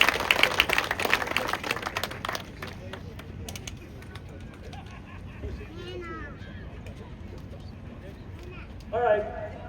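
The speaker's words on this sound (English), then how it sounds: "A great round of applause." Audience applause at a Monadnock Speedway Hall of Fame ceremony, a burst of clapping from a crowded hall that fades within a couple of seconds into murmur and room noise, with a brief spike of sound near the end.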